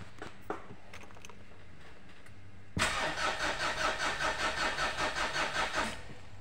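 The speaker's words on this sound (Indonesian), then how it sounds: "Ini untuk mesinnya kita starter dulu untuk melihat targetnya teman-teman." Diesel engine of a Mitsubishi Pajero cranking on the starter: a quiet lead-in, then an abrupt loud, steady rhythmic churning of the starter turning the engine over for about three seconds before cutting off.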